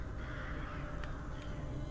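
Crows caw in the horror video game Rise of Insanity, giving a couple of short, faint calls over a quiet low ambient rumble.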